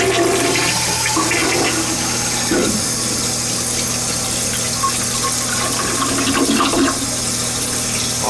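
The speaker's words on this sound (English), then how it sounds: "let's see if it flushes" An old toilet flushes with a loud, steady rush of water and a low droning hum, sustained for several seconds without a break.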